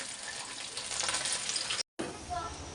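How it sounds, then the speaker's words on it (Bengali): Fish coated in turmeric and salt frying in a pan, a steady broadband sizzle that fills the clip, briefly cutting out near the end before resuming. "হলুদ লবণ মাখাই রাখছি, এখন আম্মু মাছ ভাজতেছে।"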